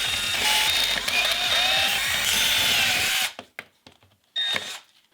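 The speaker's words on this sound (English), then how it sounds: "we're gonna try instead drilling out the little bits in here" A Dremel rotary tool drilling out the small parts of a door latch, loud and close with a high whining grind for about three seconds, then stopping, followed by clicks and one brief burst from the tool.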